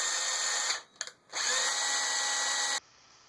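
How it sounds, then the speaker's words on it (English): A power drill spins an Acme threaded rod for an X-Carve CNC machine, whining steadily and close up, dipping briefly in the middle and stopping near the end. "So I'm just running it through my drill a few times."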